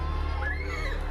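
A dense crowd murmurs and calls out at a horse race track, a steady close wash of many voices with a brief rising shout partway through.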